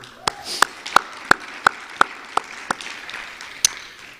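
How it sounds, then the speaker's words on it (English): Applause for award winners in education partnerships comes as a sparse run of about ten distinct, fairly evenly spaced claps, close and crisp over a faint background hum. "Please, another round of applause for all of them."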